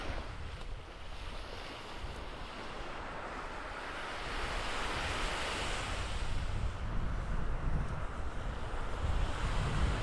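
Surf breaking on Vanderbilt Beach in North Naples, Florida, with strong wind buffeting the microphone, a steady broadband roar that grows slightly louder in the second half, with no talking.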